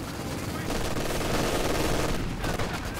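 Rapid machine gun fire from Vickers and light machine guns in the strategy game Company of Heroes 2, a dense continuous rattle of bursts layered with battle noise, loud and sustained throughout.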